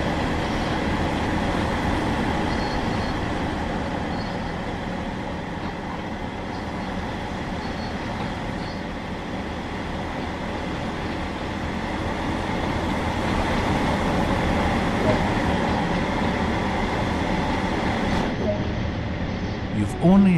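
Train driving on the West Cornwall Local line in Train Sim World 2, a steady rumbling cab and rail drone throughout with a brief click near the end, under a voice talking.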